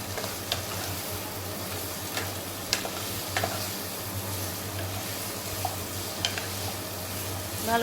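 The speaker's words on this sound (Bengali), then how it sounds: "এখন ভাজা কচু আর আলুগুলোকে দিয়ে দিচ্ছি। দিয়ে মশলার সঙ্গে ভালো করে মিশিয়ে নেব।" Fried taro and potatoes are stirred with spices in a pan: a continuous soft sizzle with scattered scraping taps of the spatula, steady and moderately quiet, no talking.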